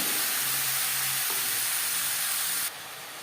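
Bottle gourd sizzles loudly as it is tipped into a hot tempering of cumin and fried chillies, a dense continuous hiss with a soft stirring scrape, dropping to a quieter sizzle toward the end.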